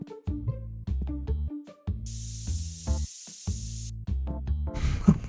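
A deodorant can in the TCG Card Shop Simulator video game gives one steady, airy hiss that lasts about a second and a half. Layered game music and effects play under and around it.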